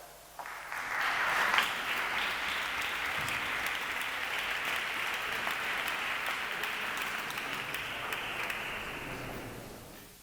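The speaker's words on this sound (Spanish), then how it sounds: "Un aplauso." A university debate league final audience breaks into sustained applause after a speech, a broad, even wash of clapping that swells in quickly and holds steady at moderate loudness until fading near the end.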